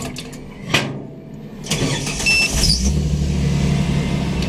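A tuned Barra-swapped Nissan R31 Skyline cranks and fires up, a sharp rising bark settling into a loud, rumbling idle close by, with a whine of fuel pump and fans in the background.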